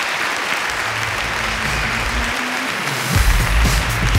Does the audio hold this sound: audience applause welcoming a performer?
yes